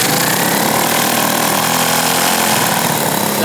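A 125cc turbocharged, fuel-injected go kart engine running loud and close, a constant harsh buzzing drone that holds steady throughout.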